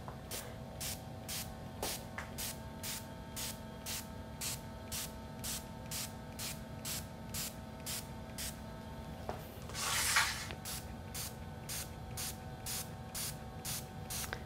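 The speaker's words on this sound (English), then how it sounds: "just take and point from the middle going out and just start spraying" Tattered Angels Glimmer Mist is sprayed onto a wooden clipboard in a long series of short, evenly spaced hissing bursts over a steady low hum, with one louder, longer spray near the end.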